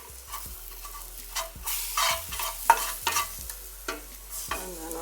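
Chickpeas (chana) frying in a pan while being stirred, with a soft sizzle under repeated scraping and knocking strokes of the spoon against the pan, close by and with no talk.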